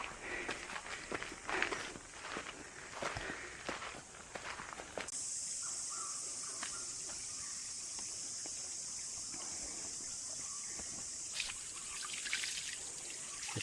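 A village stream channel that carries water all year makes a faint, steady trickle. Footsteps and light rustling over the first seconds give way to an even running-water wash.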